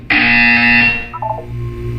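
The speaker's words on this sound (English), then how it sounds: "You will hear a buzzer." A loud, harsh electronic buzzer from the video game Portal 2 sounds once for nearly a second, then fades into a quieter background hum with faint tonal blips.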